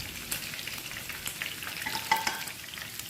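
Chicken pieces fry in hot oil for ayam goreng, giving a steady, close sizzle with scattered pops and crackles throughout.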